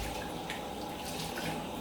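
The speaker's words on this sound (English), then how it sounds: "And I want to show you how to wash yourself." A tap runs steadily while hands are washed as part of a home temple purification ritual, a continuous close splashing hiss with no pauses.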